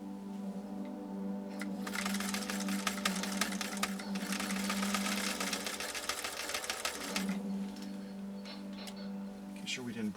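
Singer Featherweight 222K sewing machine stitching up close, a fast steady rattling clatter with a low motor hum, running in two bursts with a short slowdown between.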